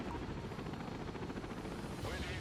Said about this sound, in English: I'm sending in the transport helicopters